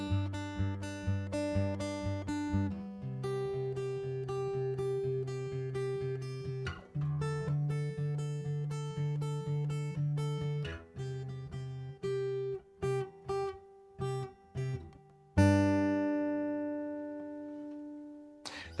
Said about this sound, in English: And I'm actually playing a D and an A.